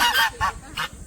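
Geese honk on a farm in rural Korea: three loud, nasal honking bursts in quick succession, close by, with no talking.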